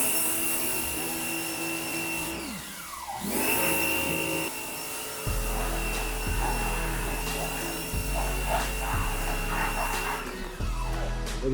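A Sun Joe SPX3000 electric pressure washer runs with a loud, close motor whine that cuts out and restarts several times, each burst settling into a steady droning tone.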